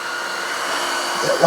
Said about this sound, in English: So I'm going to kick it over, turn it on.